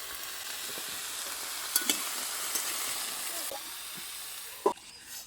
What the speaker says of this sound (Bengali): কিছুক্ষণ নেড়ে চেড়ে এর মধ্যে দিয়ে দেবো অল্প পরিমাণে হলুদ।